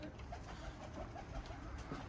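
White pigeons coo softly inside a loft, a low, faint, repeated burbling over quiet background noise.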